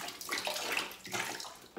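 Water poured from a shower bucket onto garden plants, a short splashing gush that swells and trails off twice in quick succession, close by.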